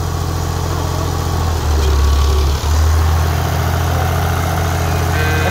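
A tractor engine idles with a steady low diesel rumble and vibration, close by, briefly deepening and revving harder partway through before settling back to its even idle.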